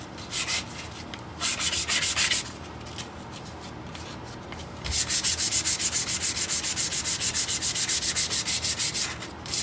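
Sandpaper rubbed by hand on a wooden guitar headstock, close rhythmic back-and-forth strokes in bursts, then a long run of fast, even passes.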